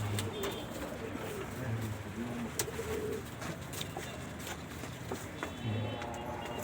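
Pigeons coo in low, repeated, soft calls against a steady noisy background, with faint clicks and scattered outdoor sounds.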